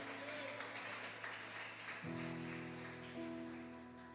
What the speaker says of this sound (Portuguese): Pode sentar, pode aplaudir